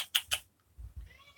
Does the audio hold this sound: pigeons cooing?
no